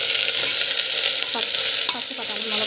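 Tomato and ginger garlic paste sautéing in a pan, a steady close sizzle broken by a few sharp scraping stirs of a spoon.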